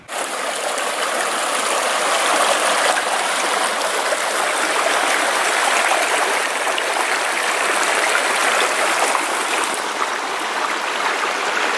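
A mountain stream flows steadily near a waterfall, a continuous close rushing and splashing of water that holds at an even level throughout, with no voices.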